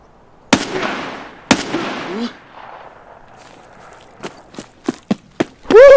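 Two sharp, loud gunshots ring out in Escape From Tarkov, about a second apart. Smaller clicks and thuds follow, and a short vocal whoop comes at the very end.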